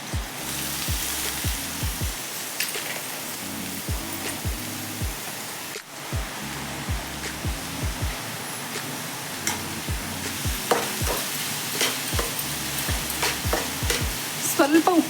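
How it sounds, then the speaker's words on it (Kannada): Onions and green chillies fry in hot oil for an egg burji, a continuous hiss with a regular rhythm of spatula strokes knocking against the pan, close and fairly loud, no talking. "ಜೊತೆಗೆ ಈರುಳ್ಳಿ ಹಾಕೋತಾ ಇದ್ದೀನಿ."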